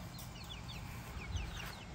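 Free-range chickens cluck and chirp in scattered bursts outdoors, faint against a steady wash of background noise, with no voices.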